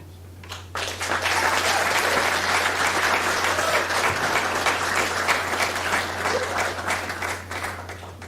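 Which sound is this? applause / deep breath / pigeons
applause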